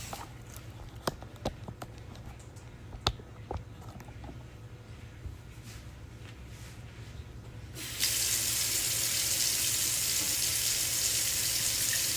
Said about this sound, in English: so I'm gonna wash their food bowls